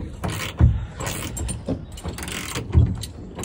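A cap clamp being cranked tight during a bear camp installation with a hoe handle prop, giving short creaking, grinding mechanical strains in two heavier bursts, close and fairly quiet.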